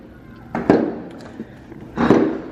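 Fireworks go off around an apartment complex on the 4th of July, two loud booming bursts with crackling tails and a small pop between them, nearby and echoing, no talking.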